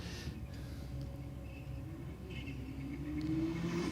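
A Toyota GR Yaris launches off the line at a Sydney drag strip: a loud, steady car engine rumble that swells and climbs in pitch toward the end as it accelerates away.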